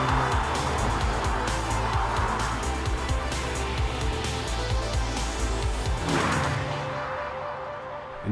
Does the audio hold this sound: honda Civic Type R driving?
yes